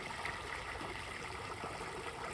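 Water trickles and splashes steadily from a leaking boat built out of garbage bags, a soft continuous flow close by with no talk.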